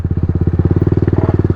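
A motorcycle engine running in the mountains near Gata Loops in Ladakh, a loud, close, rapid rhythmic thumping with a steady, even pulse, as it idles before parking.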